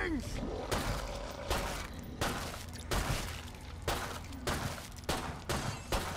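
Pistol gunfire in the zombie shooter Left 4 Dead 2: about eight sharp shots crack out at roughly regular intervals, each fading with a short tail. The shots are loud and up front.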